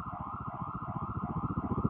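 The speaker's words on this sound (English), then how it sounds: "Sirens. What's going on out there?" A wailing emergency siren rises and falls continuously, with a rapid pulsing quality, heard steadily without any talking.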